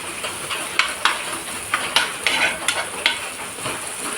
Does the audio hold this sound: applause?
no